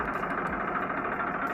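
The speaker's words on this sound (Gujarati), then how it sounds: "complete running condition tractor," A Massey Ferguson 1035 DI diesel tractor in complete running condition idles close by, a steady chugging engine drone with a slight rhythmic knock and no one talking over it.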